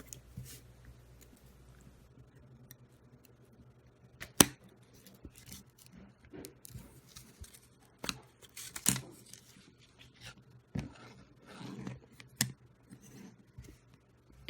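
Scissors snip through paper wrapped around a wooden stick for a homemade bone folder, a run of quiet, close, irregular cuts and rustles against a faint steady hum.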